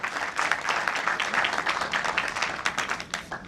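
Audience applause welcoming a speaker at a product knowledge event, dense steady clapping from a crowd filling the room throughout, fairly loud and close.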